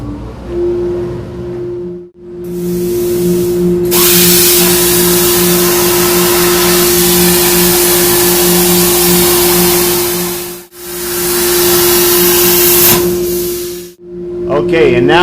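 Dryers and a ventilation machine run loud and steady in a workshop, giving a continuous broadband roar with a low hum. The roar cuts out briefly twice and then resumes.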